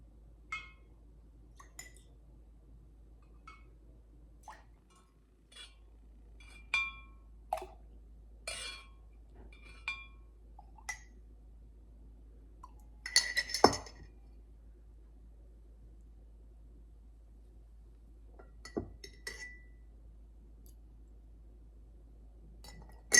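Small glass jar clinking as cream is skimmed off the top into it, a series of light, sparse clinks and taps spread out against near silence, with one louder cluster in the middle.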